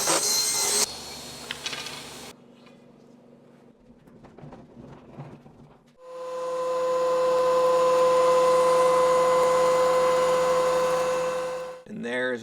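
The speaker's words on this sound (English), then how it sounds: "I'm actually going to rip it a little bit oversized so I can mill it down to exactly 3/8 in the planer." A saw rips a wood strip slightly oversized for bead moulding for flush inset cabinet doors. Brief scraping and handling noises come first, then a loud, steady, whining power-tool drone holds for about six seconds before cutting off.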